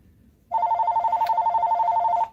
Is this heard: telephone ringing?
yes